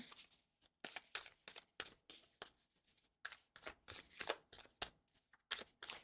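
Tarot cards being shuffled and drawn, a quick series of crisp riffling flutters and slaps in irregular bursts separated by brief pauses, close and quiet.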